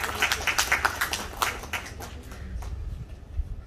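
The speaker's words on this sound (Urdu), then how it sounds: "آپ سب کی بھرپور تالیوں میں" Audience clapping for a cash prize winner at a Dha Bahawalpur ceremony, a short burst of applause that is strong at first and then fades, with faint talk underneath.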